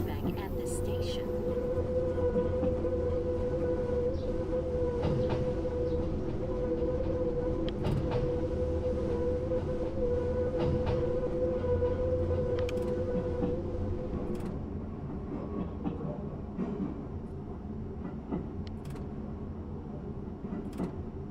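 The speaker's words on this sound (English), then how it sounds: "The train will conduct the second switchback at this station." A train in a Japanese rail simulation game runs through a switchback station on a hillside line, giving a steady low rumble and hum with occasional clicks and sharp clatters, and a voice talks faintly over it.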